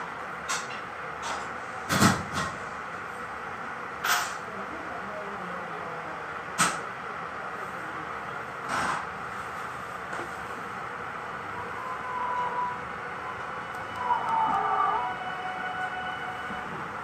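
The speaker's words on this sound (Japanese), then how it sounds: "それでは連結作業をじっくり観察しましょう。" Limited express trains Nanpu and Shimanto being coupled, a quiet hum of a station or railcar with occasional sharp metallic clunks and thuds spaced irregularly.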